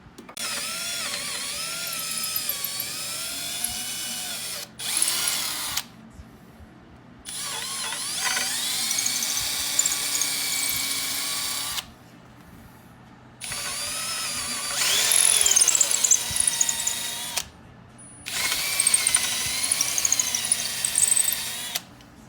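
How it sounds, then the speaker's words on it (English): A power drill whirs in several separate bursts, each a few seconds long, drilling holes into a wooden serving tray, with brief quiet gaps between them. "here's to happy drilling"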